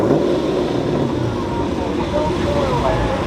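Muscle car at a Mopar Fourth of July car meet revving for a burnout, a loud rumbling engine roar mixed with crowd noise and voices talking over it.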